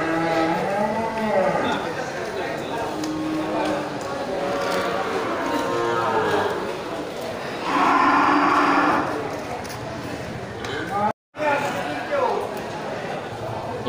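Bali cattle, cows with their calves, moo several times at a busy livestock market; the long lowing calls rise amid crowd noise, and someone talks over them.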